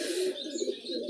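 Domestic pigeons cooing steadily in a home loft, a soft continuous murmuring coo close by with no talk over it.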